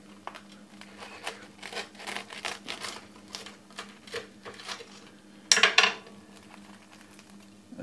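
A knife cuts open a toasted sandwich fresh from a Crimpit sandwich maker, with a run of crisp, crunchy strokes through the crust and a louder sharp scrape near the end.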